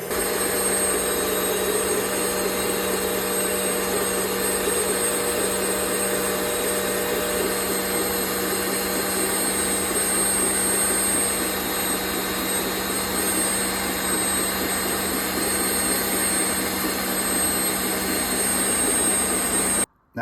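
An electric mixer whirs steadily and loudly as a hot milk and cream mixture is slowly poured into whipped eggs for toast ice cream, a constant motor drone that runs unbroken until a sudden stop at the very end.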